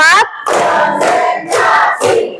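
Schoolchildren in a classroom clap out a counting clap game in loud, rhythmic bursts, their voices chanting along with each round of claps, close and energetic.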